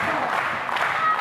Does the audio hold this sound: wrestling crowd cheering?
yes